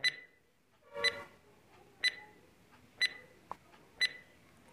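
Quiz countdown timer beeping steadily, one short sharp electronic beep each second for five beeps, close and clear over a faint quiet background.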